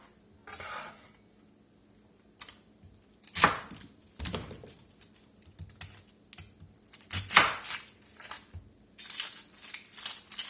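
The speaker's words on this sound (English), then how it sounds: "I'll chop us up some onion" A knife chops an onion on a board in sharp irregular clusters of crisp cuts with quiet pauses between, close and clear against a faint steady hum.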